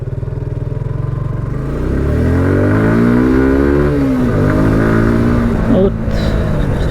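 A carbureted Suzuki Gixxer motorcycle accelerates in third gear on an open road, its engine note rising steadily from a low rumble into a loud, strained drone, with a brief gear-change dip near the end.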